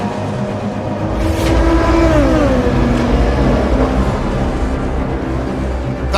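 LMP2 prototypes and GTE race cars at the Le Mans 24 Hours, engines howling at high revs with pitch rising and falling as cars pass, a loud continuous roar with whining harmonics.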